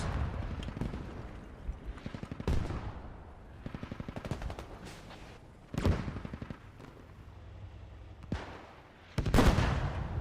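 Video game gunfire in Squad as vehicles shoot into hangars: bursts of rapid automatic fire and several heavy, sharp blasts, some near and loud, others fainter, spread unevenly across the scene.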